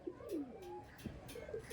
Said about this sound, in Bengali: এই পায়রাটা একটু দেখান